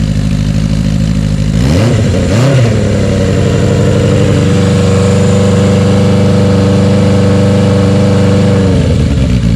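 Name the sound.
car engine revving with new muffler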